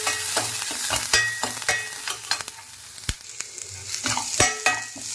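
A pan of cooked beans and carrot being stirred into a coconut and mustard-seed tempering, with a spatula scraping and clinking repeatedly against the pan over a steady low sizzle, close and without speech.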